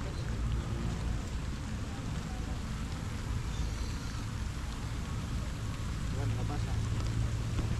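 Steady rain patters throughout, a dense continuous wash of drops with a low rumble underneath.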